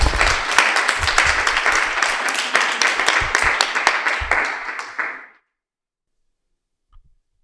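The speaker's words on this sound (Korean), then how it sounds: "큰 박수로 한번 모시겠습니다" An audience claps loudly and steadily to welcome a speaker at an artist talk, the applause lasting about five seconds before stopping abruptly into silence.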